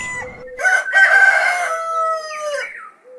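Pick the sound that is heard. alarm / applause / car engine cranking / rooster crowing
rooster crowing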